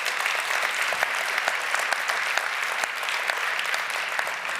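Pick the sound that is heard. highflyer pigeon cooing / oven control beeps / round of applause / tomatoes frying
round of applause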